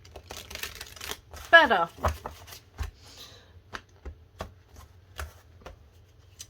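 Tarot cards are shuffled up close with quick riffling and slapping bursts, followed by scattered card taps and handling, while a person speaks briefly.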